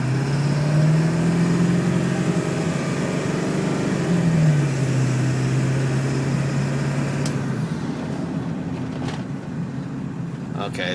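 A 2000 Ford F250 pickup with a 7.3 turbo diesel accelerates on the road, its engine drone rising and holding steady, loud and close, with the pitch dropping as it shifts partway through.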